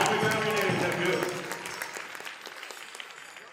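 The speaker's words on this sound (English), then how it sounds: "Let's give him a big round of applause to get one out there." Applause from a powwow audience honoring the second place winner, loud at first under a speaking voice, then thinning into scattered claps as it fades.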